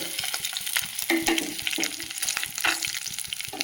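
Urad dal, garlic and dried chillies frying in a little oil for tomato chutney, a busy crackling sizzle with quick spatula scrapes and stirs, close and fairly loud, no voices.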